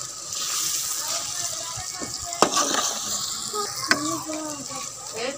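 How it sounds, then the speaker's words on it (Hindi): Okra stirred with turmeric, red chili and salt in a hot frying pan: continuous close sizzling with scraping stirs and a couple of sharp utensil knocks, and a voice speaking briefly. "अब इसको अच्छी तरह मिक्स करेंगे।"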